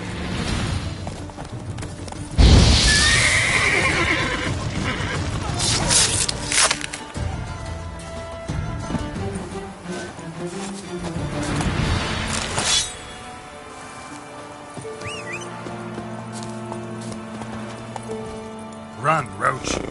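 Roach the horse galloping in Witcher 3 on PS5, rhythmic hoofbeats under loud game music and effects, with a sharp crash early on and speech heard over it.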